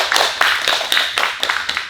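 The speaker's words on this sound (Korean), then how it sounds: "여러분 꼭 그러라고 응원의 박수 한번 보내주실까요?" Audience at a bookshop book concert for a picture-book author claps briefly, a scattering of close, uneven hand claps over about two seconds.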